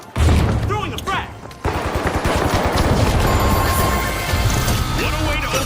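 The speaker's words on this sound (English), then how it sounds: "Throwing a frag." A frag grenade is thrown and bursts in the game THE FINALS, a loud, dense crash of explosions and gunfire-like cracks that continues as a sustained roar of battle noise.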